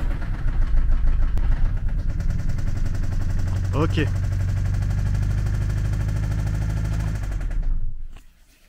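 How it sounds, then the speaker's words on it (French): A Subaru engine runs with a rapid, harsh mechanical knocking that rattles loudly and steadily for several seconds, and someone speaks briefly before it winds down and stops. "Donc le moteur se lance, mais effectivement ça fait un sale bruit."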